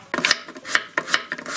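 A knife slices firm radish into thin square pieces in quick successive cuts, about six crisp rasping strokes, close up with no voices.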